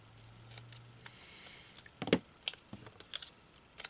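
Scissors snip through paper, trimming the hair of a handmade paper doll in a craft session, giving a series of small close crisp cuts, quiet and irregular, with no voices.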